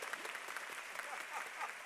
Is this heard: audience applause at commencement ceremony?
yes